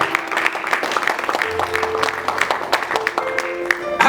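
A church congregation claps and cheers in acclaim for Jesus, a dense, steady patter of applause and scattered shouts close by, with a voice rising over it.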